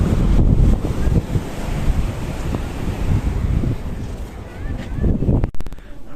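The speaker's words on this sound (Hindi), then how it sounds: "कितनी खतरनाक लहरें उठ रही है वहाँ से" Rough sea waves surge and crash where the Gomti river meets the sea at Dwarka, a continuous loud roar of surf mixed with heavy wind buffeting the microphone, with no one speaking.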